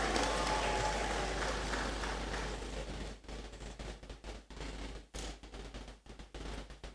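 Graduates at a congregation ceremony in a great hall clap loudly at first, then the applause thins into scattered, uneven claps before fading.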